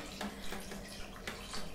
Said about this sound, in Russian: Дальше заливаем это все водой